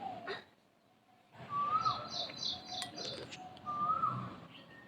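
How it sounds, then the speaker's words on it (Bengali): A koel, a kind of cuckoo, gives two faint rising whistled calls some distance away, with softer chirps from other birds and a low background hum. "কি অপূর্ব কোকিল ডাকছে শুনতে পাচ্ছ"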